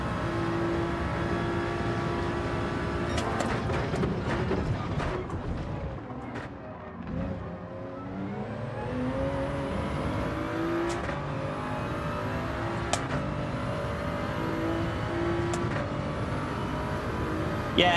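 A Beetle race car in the video game Gran Turismo 7, its engine note sweeping up and down through gear changes, a continuous, moderately loud whine with other cars roaring past.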